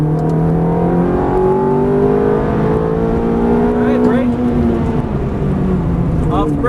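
A Ferrari F430 on a race track accelerates with a loud, close engine drone that climbs steadily in pitch through the gears. An instructor's voice talks over it.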